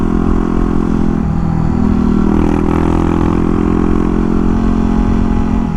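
A Yamaha WR250R motorcycle with an FMF exhaust pipe runs steadily up close, a loud throbbing engine note with a slight rise in revs partway through and no talking.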